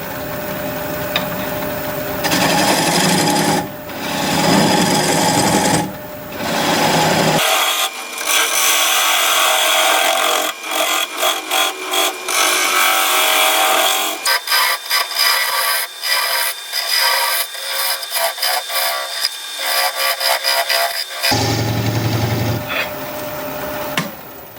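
A lathe-mounted maple burl bowl has its nub cut away with a power tool: a loud, steady, sustained whine and buzz that cuts in and out in long stretches, shifting in tone as the blade engages the wood.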